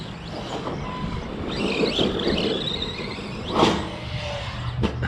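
An Arrma Big Rock crew cab RC truck runs around a backyard, its electric motor whirring and whining continuously with a few surges and gravel scuffs, fairly close and with no talking.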